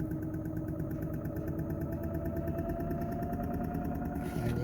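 An e-generator spinning at higher speed in an off-grid test, a steady close mechanical hum and whir with a fast regular pulsing rhythm, unbroken throughout.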